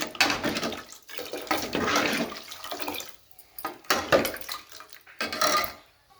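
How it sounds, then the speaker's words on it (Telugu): Intermittent splashing and sloshing of water being poured and stirred into a thick batter, close by, in uneven bursts. "తగినన్ని నీళ్ళు అయితే వేస్తున్నాను"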